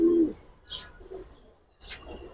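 Mumbai pigeons kept at a pigeon farm give a short, low coo close by, followed by a few faint, thin chirps and quiet pauses.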